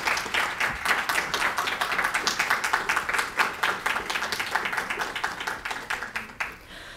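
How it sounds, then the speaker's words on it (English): Audience applauding after an academic lecture on neoextractivism, hosted by a university sociology club: dense, steady clapping from a room full of people for about six seconds, then fading quickly near the end. "please give a round of applause to Dr."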